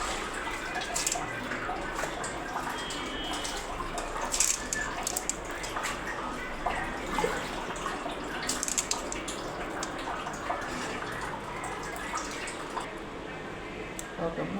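Sorghum grains washed by hand in a vessel of water, a steady sloshing and dripping with repeated small splashes close by, continuing throughout.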